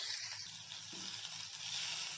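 Chicken masala being stirred into a filling in a hot pan, a steady soft sizzle with faint scraping running throughout, close and even, no voices.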